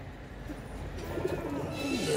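Soft, low cooing of black-eyed Kalsira pigeons murmurs continuously against a busy background hum, with a few faint higher chirps near the end.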